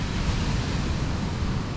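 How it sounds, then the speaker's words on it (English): Atlantic Ocean surf rolling onto a beach, a continuous broad wash of waves with some wind noise, steady and moderately loud with no voices. "this is the Atlantic Ocean, and people out here enjoying the beach"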